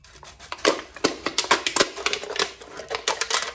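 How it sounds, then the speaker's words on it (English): Kitchen scissors snip into an aluminum can, giving a string of sharp, close metallic clicks and crunches in an irregular rhythm, with no talking. "Now, cut in somewhere on your can."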